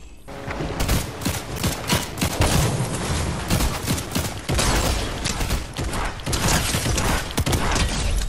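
Rapid, dense bursts of Striker shotgun fire in a video game, layered with mechanical clatter, loud and continuous throughout with brief dips between volleys.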